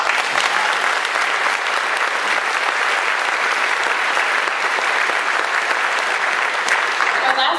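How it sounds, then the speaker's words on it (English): At a middle school 7th/8th grade winter concert, the audience breaks into loud, continuous applause that fills the room evenly throughout. "So I'm giving you guys myself right now a round of applause."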